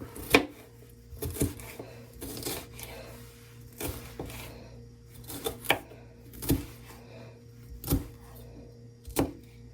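A knife chops a bell pepper on a cutting board, about a dozen crisp, evenly spaced thuds at close range, with no talk.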